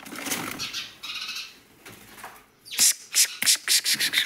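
Sparrow chick flapping its wings as it flies around inside a house, a run of quick, close wing flutters in bursts after a quieter stretch of soft rustling.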